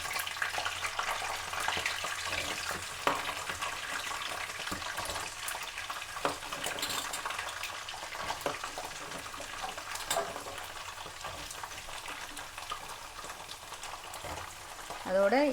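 Sesame oil heating for frying garlic and ginger for a garlic pickle, a steady soft hissing sizzle running throughout at low level, with a brief louder burst near the end.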